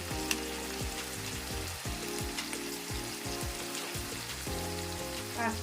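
Spice paste frying in a pan for doi katla, a continuous close sizzle with scattered spitting pops and crackles over a low background hum, no talk.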